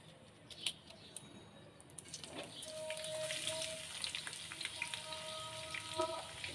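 Onions sizzle in hot oil in a pan, a steady crackling fry that swells after they hit the oil, with scattered pops and spits, close and moderately loud, no talking.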